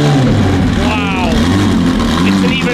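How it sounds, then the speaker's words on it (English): A McLaren Senna GTR race car engine starts and roars loudly up close, a dense, raspy rumble with revving surges. "Let's take a listen then, as the Senna GTR starts up."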